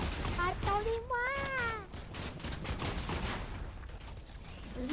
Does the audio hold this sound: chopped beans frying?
no